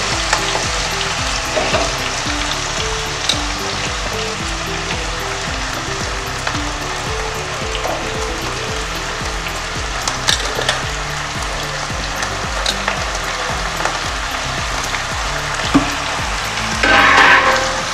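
Potato and eggplant pieces, added after green chilies, fry in hot oil in a pan for a Bengali kachki fish chochchori, giving a steady, dense sizzle throughout with a short burst of stirring clatter near the end and no talk.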